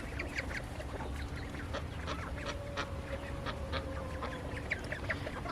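A flock of ducks quacks and chatters in overlapping bursts at moderate distance, steady outdoor background noise throughout, no voices.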